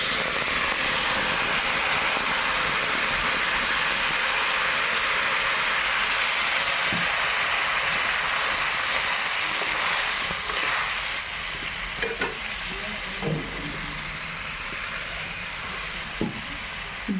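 Water poured into a hot pan of rohu fish bones and Malabar spinach cooked with turmeric and salt, giving a loud steady steam hiss that eases after about eleven seconds, followed by a few soft clunks.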